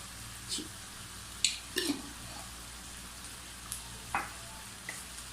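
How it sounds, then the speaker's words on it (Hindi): Okra masala with garam masala and kasuri methi sizzles faintly in a pan while being stirred, with a few scattered scrapes and clinks of a spoon over a low, steady background hiss. "और इससे मैं अच्छी तरीके से मिक्स कर लूँगी"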